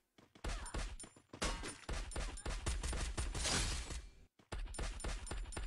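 Rapid bursts of gunfire in the battle royale game Garena Free Fire, loud, close and dense, running almost continuously before a brief pause and a renewed volley.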